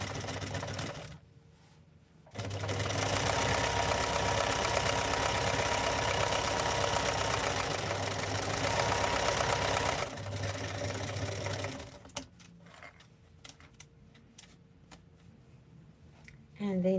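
A sewing machine runs steadily for about eight seconds, stitching the bottom side of a fabric bag with a zip, then stops; quieter handling noises and a brief voice follow.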